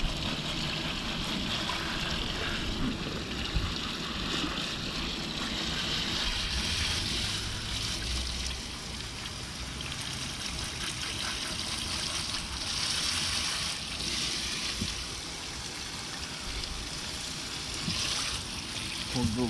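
Steady rushing spray of water hitting a full container of crawfish being rinsed, continuous and fairly loud, with people talking over it now and then.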